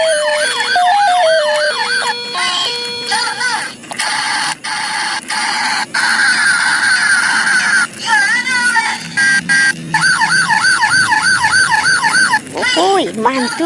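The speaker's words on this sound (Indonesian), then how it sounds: "Ini ada mobil polisi teman-teman tuh." Toy police car siren, a loud wailing electronic siren cycling up and down repeatedly with brief interruptions, close by and dominant.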